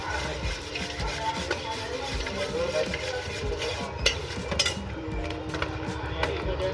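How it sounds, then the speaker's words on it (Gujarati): Bhel is tossed and mixed with potato masala and special Rajkot chutney at a street food stall, giving soft, rhythmic scraping and stirring that continues steadily under a voice. "બટેકાનો મસાલો, સ્પેશિયલ રાજકોટની ચટણી બરાબર મિક્સ કરી નાખવાનું છે"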